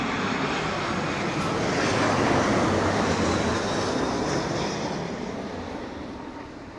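A jet airliner with Pratt & Whitney engines roars loudly at Heathrow in stormy wind, a broad continuous rumble that swells and then slowly fades.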